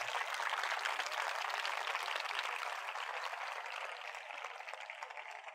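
Loud, steady applause from a church revival meeting audience clapping for Jesus, a dense continuous wash of hand claps that fades slightly toward the end, with no voices over it.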